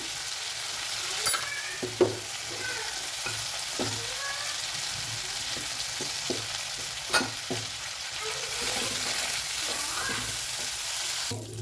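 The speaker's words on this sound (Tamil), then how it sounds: "இந்தளவுக்கு நல்லா வதங்குதுங்க" Ivy gourd sautés in oil with a moderate, steady sizzle, broken by frequent knocks and scrapes of a spatula against the pan and a couple of sharper clatters.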